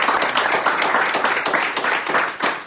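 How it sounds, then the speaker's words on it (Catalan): Sustained applause from a crowd at a tribute event for Olympic cyclists, dense and steady clapping throughout with no pauses. "Vinga, un aplaudiment per ell."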